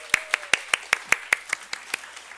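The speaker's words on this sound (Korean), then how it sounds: "감사의 박수 한번 같이 하겠습니다." A congregation at a middle-school Sunday worship service claps to thank the choir: a steady run of about a dozen evenly spaced, crisp claps that gradually soften, with no talking.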